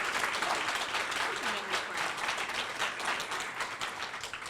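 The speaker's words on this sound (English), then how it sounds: "So can we give Dr. Mahdi another round of applause?" An indoor audience at a health department bureau launch in St. Louis applauds warmly, a dense, steady patter of many hands clapping that carries on for several seconds and tapers slightly toward the end.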